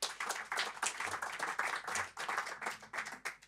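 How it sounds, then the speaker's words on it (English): Audience applause after a talk on timber construction, a steady wash of many hands clapping throughout, fairly loud and close with no speech over it. "Applause."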